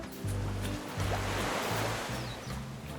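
Ocean waves crash and wash onto a Caribbean beach in Barbados, a continuous close surf roar with rhythmic low swells rising and falling.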